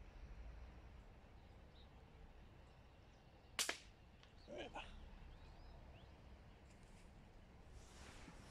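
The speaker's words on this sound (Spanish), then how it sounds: "vamos a grabar unos tiros con el 4-5 de Claudio" A single sharp, snappy PCP air rifle shot, during a turtle dove hunt, cracks out over steady outdoor background noise, followed by a faint metallic clack a second later.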